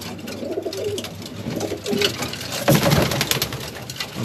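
Racing pigeons coo repeatedly inside a loft of widowhood hens, soft throaty calls overlapping near and far over a steady background hiss, with a light patter like rain.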